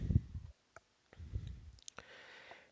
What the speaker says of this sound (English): I'm going to click search.